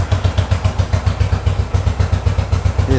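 A 1970 Yamaha XS650 motorcycle engine with carburetors idles close by, a loud, steady, rhythmic lumpy thump with regular pulses throughout and no voices.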